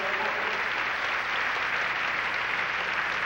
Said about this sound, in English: the crowd here at Izmolovo Stadium giving a warm welcome to the first attempt of Ruslan Balayev of the Soviet Union